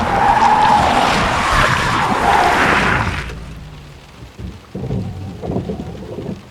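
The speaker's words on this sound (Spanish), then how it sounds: "Clavó los frenos, el jeep coleó, perdiendo tracción en un trompo de punta a punta" A jeep's tyres screech loudly as the brakes slam on and it spins out on a rain-streaked road, a harsh skid lasting about three seconds before cutting off, followed by softer scattered thuds and rustling.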